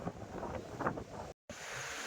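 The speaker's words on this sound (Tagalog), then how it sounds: "malamig, malakas ang hangin." Strong, cold wind at an elevated viewpoint near Pinsal Falls buffets the microphone in rumbling gusts that swell and fade, cutting out briefly before the roar resumes.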